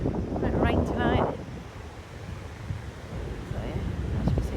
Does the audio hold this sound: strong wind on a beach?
yes